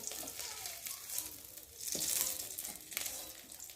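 Shrimp frying in oil in a pan, a bright, crackling sizzle that swells and fades as the pieces are stirred, with a few soft scraping knocks against the pan.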